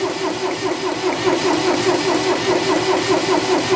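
A CompAir mobile air compressor's engine cranks and catches, settling into a steady mid-pitched running chug with a constant tonal hum, close and loud, no voices.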